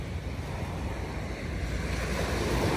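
Ocean surf foams and washes up the shore at Cabo San Lucas, a continuous broad hiss of breaking water building slightly louder toward the end, with wind buffeting the microphone.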